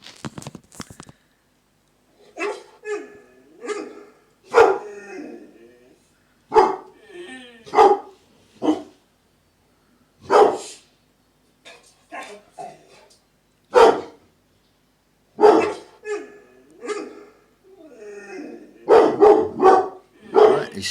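A dog at home barks in repeated separate bursts, some sharp and some whimpering or yipping, spaced irregularly with silent gaps between them, close and clear.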